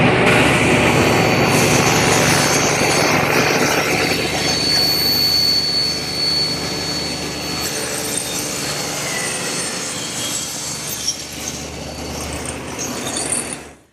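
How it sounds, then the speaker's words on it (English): A table saw rips wheelbarrow legs using a homemade tapering jig set against the rip fence, a loud steady whine and cutting roar running nearly the whole time before tapering off at the end, with no talking. "So to cut those, I'll use my homemade tapering jig, which has an infinite number of selections"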